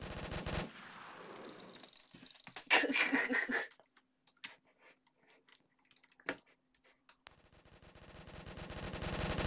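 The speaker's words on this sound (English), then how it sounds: "I'm sniping you." Gunfire in a video game sniping match rings out in sharp, separated cracks, a dense burst early followed by scattered isolated shots and then a rising rapid clatter near the end.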